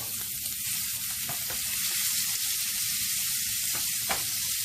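A sous vide ribeye steak and shrimp searing in a hot pan, a loud, dense, continuous hissing sizzle with a few brief pops, close up and unbroken, no voices heard.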